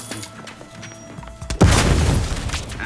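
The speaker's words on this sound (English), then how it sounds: "Explosion imminent." A heavy boom bursts in suddenly partway through a spell of quieter game sounds in The Outer Worlds 2, followed by sustained crackling, rumbling debris that stays loud to the end.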